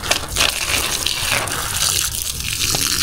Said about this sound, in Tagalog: Ginaguyod lang nato ni ato ang patubig.